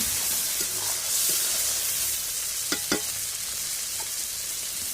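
Ground spice paste frying in mustard oil with bay leaf tempering, a continuous close sizzle and hiss with a couple of sharp spoon or pan knocks in the middle.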